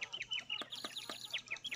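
Rooster crowing in the video game Polda 6, a short game sound effect with repeated high chirpy calls and a few clucks, fairly faint and heard alone.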